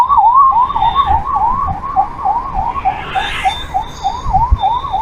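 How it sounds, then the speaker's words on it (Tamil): Ambulance siren passing on a road, a loud continuous wail of rapid rising-falling cycles over road noise and passing traffic, with a faint secondary tone in the background. "ஆம்புலன்ஸ் வந்துட்டுருக்கு, கொஞ்சம் ஓரமாக நிற்கும்."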